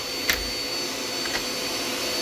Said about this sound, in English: I'm going to go ahead and finish vacuuming